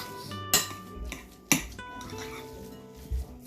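A spoon scraping and clinking against a pot while minced meat and cooked chana dal are mashed together for shami kebabs, with a few sharp metallic knocks among soft stirring sounds, close and alone.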